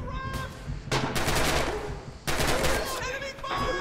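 Gunfire from the World War II shooter Red Orchestra 2 crackles in dense bursts, with rapid rifle and machine-gun shots close by and fast, sharp volleys that repeat across the whole stretch.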